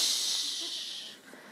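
A voice mimics the fizzing of Coca-Cola with a sustained breathy hiss that fades out over about a second and a half.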